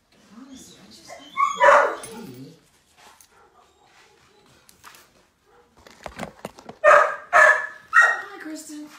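A dog gives a few short barks and whimpering yips at close range. Someone talks between the sounds, and some quiet indoor rustling and handling noises come in the pauses.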